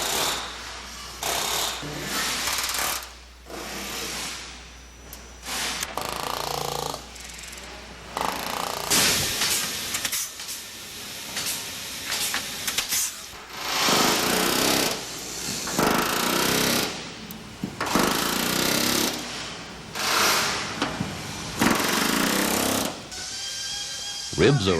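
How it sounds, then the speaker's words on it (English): Pneumatic riveting on the aluminum body of an Airstream travel trailer at the factory, 1984: loud, dense bursts of rapid hammering that stop and start in irregular runs, with a voice speaking between the bursts. "Thousands of rivets are used to provide the tightest, most reliable means of fastening."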